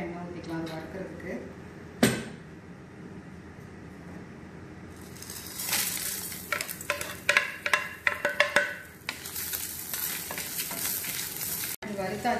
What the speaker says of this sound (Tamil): கொஞ்சமாக ஒரு ஒரு ட்ராப் அளவுக்கு எண்ணெய் ஊற்றிக்கலாம் அது வறுக்கிறதுக்கு.